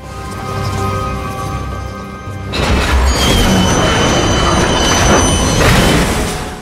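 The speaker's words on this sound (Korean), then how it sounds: "열차 한 대가 풀숲을 가로지르며 달려갑니다." A loud train rumbles past through grass, a steady hum giving way to a roaring, rattling wash of wheels and carriages close by.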